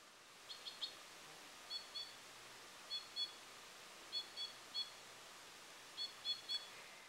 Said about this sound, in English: There's not too many birds right now that are singing their heads off like these guys are